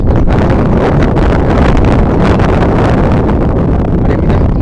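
Wind blows through a jungle near Hyderabad and buffets the microphone with a loud, continuous rumbling roar that runs unbroken from start to end.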